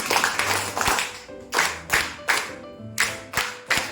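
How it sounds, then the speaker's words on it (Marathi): Students clapping for newly elected class leaders in a school classroom, a few short bursts of hand claps separated by brief pauses, close and moderately loud, no speech. "तर दोनही उमेदवारांसाठी जोरदार टाळ्या वाजवा"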